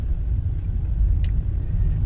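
Cars idling in a long queue waiting for the Mukilteo ferry, a steady low engine rumble heard from nearby with a brief sharp click partway through.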